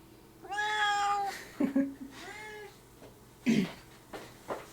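A pet cat meows several times indoors, one long drawn-out cry followed by shorter calls, close to the microphone, with soft thumps and faint room noise between the calls.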